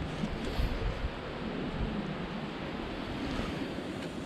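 A strong wind blows across rosemary scrubland in Provence, a steady, loud broadband roar that buffets the microphone throughout, with no voices.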